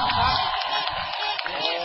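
A crowd at a political rally in Phayao claps and cheers in a dense, sustained roar, with a voice talking over it.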